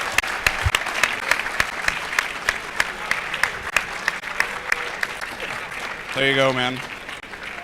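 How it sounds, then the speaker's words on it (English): An audience at a Halo Reach esports final in Blackpool claps for the runners-up: steady, moderately loud applause with sharp individual claps standing out, someone speaking briefly over it near the end. "Give them a big round of applause."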